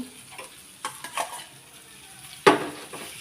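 Ground kadvanchi stirred into chutney frying in a pan, with soft sizzling and several spoon scrapes and taps, ending in one louder clank against the pan, close and fairly quiet.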